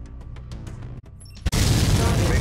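Long-range missiles fire in the MechWarrior 5 video game: soft mechanical rumble, then one sudden loud blast that gives way to a dense, sustained roaring rush to the end.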